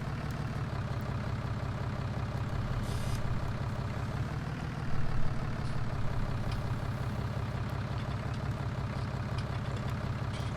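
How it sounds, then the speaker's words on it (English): An older farm tractor engine idles steadily, a low continuous rumble with a deep throbbing hum that holds even throughout, nearby and fairly loud, with a brief rise in intensity midway. "It's an older tractor"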